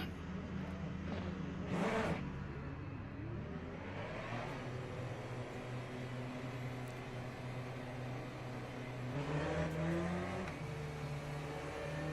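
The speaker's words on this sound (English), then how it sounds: "Formation lap has started." Race cars rolling through the formation lap in the Le Mans Ultimate sim game: a steady, droning engine note that rises and falls in pitch, with a continuous mechanical whir throughout and occasional throttle swells.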